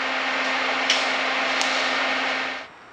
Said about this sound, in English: I'm going to go ahead and weld it together.